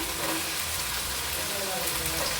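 Carrot, beans and capsicum fry in a pan for gobi fried rice, giving a steady, close, continuous sizzle with no breaks.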